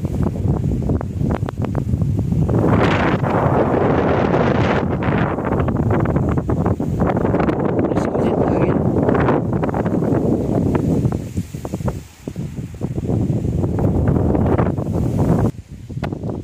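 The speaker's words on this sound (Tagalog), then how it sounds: "Lakas ng hangin." Strong wind buffets the microphone at a tower lookout above a river, a loud, roaring, gusting rush that swells and eases in waves, briefly dropping before surging again.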